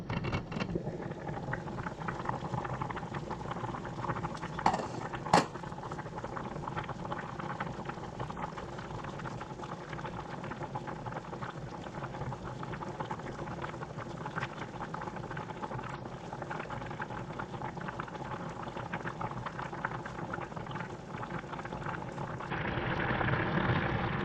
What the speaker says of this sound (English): check the rice and see if it's boiling